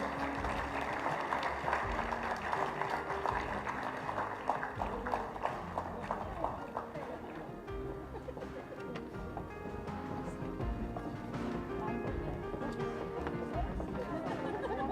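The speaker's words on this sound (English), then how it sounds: "Let's give another big round of applause for the Film Critics Guild." Audience applause at a live Film Critics Guild event, a sustained wash of clapping hands that runs steadily throughout, moderately loud and dense, with a few voices faintly mixed in.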